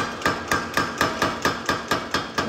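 Hammer striking a blade during forging in Japan, ten sharp metallic blows in a quick, even rhythm, loud and close with no talk.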